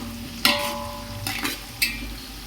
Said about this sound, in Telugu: ఇదంతా ఫ్రై అవ్వాలి.